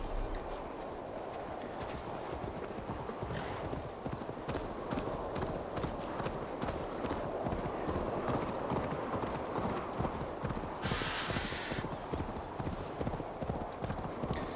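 Rapid, rhythmic clip-clop of horse hooves at a trot in Assassin's Creed Valhalla, continuous and close, with a brief whinny partway through and a soft ambient bed.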